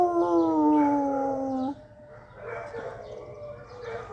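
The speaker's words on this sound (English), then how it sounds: "You hear the dogs howling too." Dogs howl in long gliding tones for over a second, then fainter howls continue further off, with a brief startled exclamation from a person near the end.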